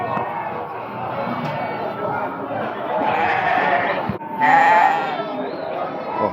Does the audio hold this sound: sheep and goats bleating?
yes